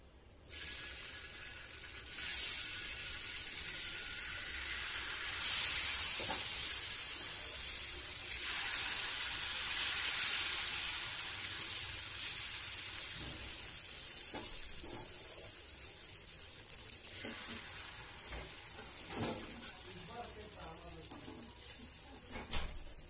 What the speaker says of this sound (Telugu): ఆయిల్ అప్లై చేసుకున్నాక దోశ వేసుకోవాలి.